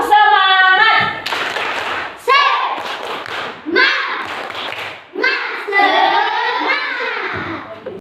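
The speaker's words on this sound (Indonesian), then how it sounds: "Tepuk semangat!" Children in a classroom do a rhythmic clapping chant, voices and hand claps in loud bursts broken by brief pauses.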